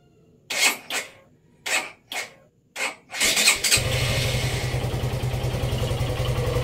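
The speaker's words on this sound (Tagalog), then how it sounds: "Papainitin muna natin yung engine kahit at least mga 1 minute to 2" A motorcycle engine cranks in several short bursts of starter whine, catches and settles into a steady, close idle warming up before an oil change.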